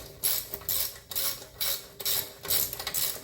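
A ratchet wrench loosening the fan bolts on a 1971 Chevelle small-block 350: a close run of rhythmic clicking ratchet strokes, roughly twice a second, repeated back and forth, with no talking.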